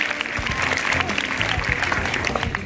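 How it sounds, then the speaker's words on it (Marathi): An audience claps at a school magic show, a dense steady patter of many hands over tonal sounds that lasts throughout. "त्यांच्यासाठी टाळ्या वाजवणार."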